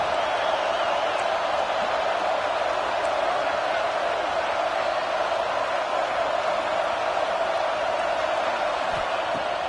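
A stadium crowd in College Football 26 roars in a steady, loud wash of cheering and noise at a third-down red zone play, sustained throughout with no clear breaks.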